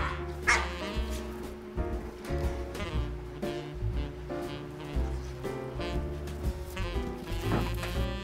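Several dogs bark, yip and whine in excited bursts during indoor play with a ball, the yaps close and fairly loud, layered over steady background noise with no talk.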